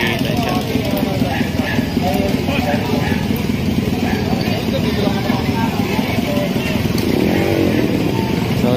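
Several motorcycles running on a busy street, a steady engine drone with idling and revving throughout, close and loud, with people talking over it.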